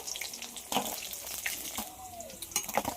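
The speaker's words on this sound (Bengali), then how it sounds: "মাছের 2 সাইডই আমার খুব ভালোভাবে ভাজা হয়ে গেছে" Fish frying in hot oil in a home kitchen, a soft continuous sizzle broken by a few sharp clinks and scrapes of a utensil against the pan, fairly quiet, with no talking.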